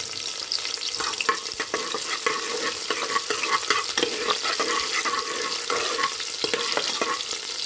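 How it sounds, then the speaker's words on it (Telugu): Green chillies frying in oil until golden brown, a steady dense sizzle with stirring scrapes and spatters throughout, close and fairly loud, no talking. "గోల్డెన్ బ్రౌన్ కలర్ వచ్చేదాకా వేయించుకోండి పచ్చిమిర్చిని అయితే."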